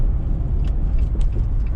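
A 2021 Jeep Wrangler 80th Anniversary Edition accelerating hard, with a loud, dense engine roar close by and small bursts of higher noise over the steady low rumble.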